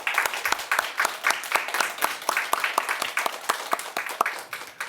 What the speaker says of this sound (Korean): 하나님께 영광의 박수 올려드립시다